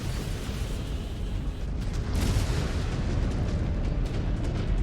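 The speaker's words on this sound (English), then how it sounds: "Incoming missile." Missiles strike in the mech combat game MechWarrior 5: Clans, giving a heavy, rumbling explosion with a deep low roar and a stronger blast about midway that keeps booming to the end.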